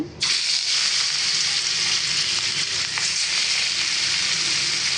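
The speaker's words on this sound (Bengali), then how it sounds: "এবারে আমি মাছ দিয়ে দিব তেলটা গরম হয়ে গেছে" Tilapia fish frying in hot oil in a wok, cooked with pointed gourd. A loud, steady, close sizzle bursts in after a brief quiet start and holds unbroken to the end.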